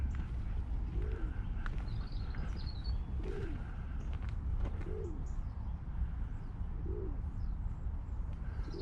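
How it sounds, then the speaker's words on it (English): Doves coo in soft, repeated low phrases at a distance, four or so spaced calls against steady outdoor ambience near water, with faint higher bird calls scattered above. "Some doves around somewhere, I can hear them."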